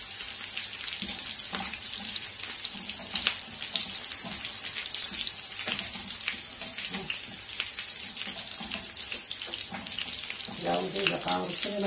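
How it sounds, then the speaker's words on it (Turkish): Water pours into rice that has been roasting in a pan for a Turkish rice dish, making a continuous splashing, gurgling hiss with crackles and sizzles, heard close and loud, with brief voices near the end. "Kavruluşlarıyla suyunu katıyorum"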